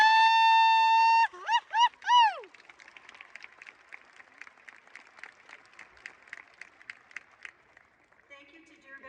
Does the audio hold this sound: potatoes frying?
no